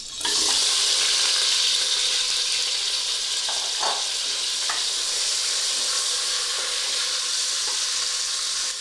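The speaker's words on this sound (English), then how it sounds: "And now let's fry the mutton chops till we get rid of the raw flavor of the mutton meat" Mutton chops fry in hot oil inside a pressure cooker, a loud, dense, continuous sizzle heard up close with a few faint clinks of stirring and no talking.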